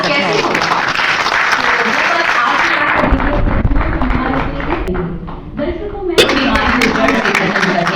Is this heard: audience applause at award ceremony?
yes